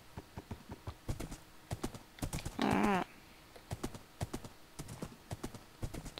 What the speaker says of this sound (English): It's been a while since I used a horse.